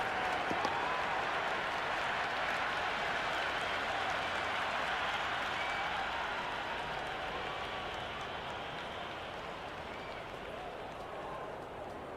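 A cricket stadium crowd in the Cricket 26 video game, during an India vs South Africa ODI, roars and applauds as a dense, steady wash of noise that slowly fades.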